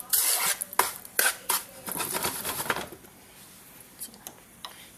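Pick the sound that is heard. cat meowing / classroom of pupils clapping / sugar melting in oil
sugar melting in oil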